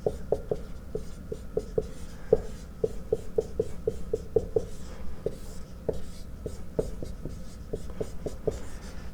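A pen or marker writes out chemistry equations for acid dissociation constants, producing a steady, close run of short scratchy strokes in quick rhythmic bursts, with no voice over it.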